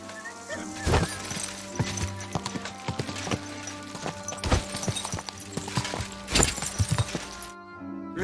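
Steady clip-clop of horse hooves at a trotting rhythm in Kingdom Come: Deliverance II, with occasional sharper clatters and background game sounds.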